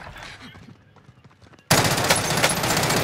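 Gunfire in the Call of Duty Cold War Warzone video game: quiet game ambience and faint footsteps, then a sudden loud burst of rapid automatic fire that continues densely to the end.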